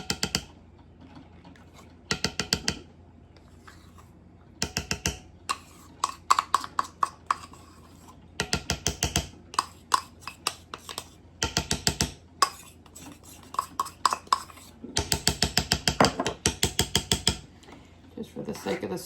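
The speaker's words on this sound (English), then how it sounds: "I'm gonna stir in my peanut butter." A metal spoon stirs peanut butter in a bowl, giving bursts of rapid scraping and clinking strokes with short pauses between, fairly close and distinct, with no talk.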